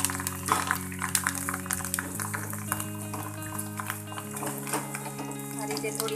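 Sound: sabudana potato chakli frying in hot oil

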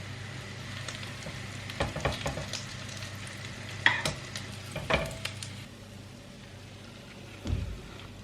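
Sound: bread frying in a crepe pan

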